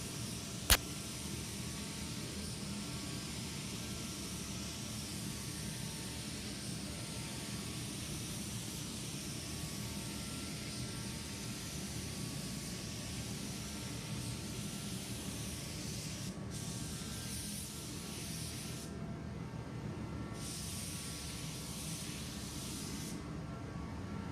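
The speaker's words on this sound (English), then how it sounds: "you can really see how the spray pattern is really nice, and it's really lightweight, so easy to spray with" Astro Pneumatic EuroPro EVOT 13 spray gun spraying paint onto a car door, a continuous close hiss of atomizing air that holds steady throughout with a brief tick near the start and short dips toward the end.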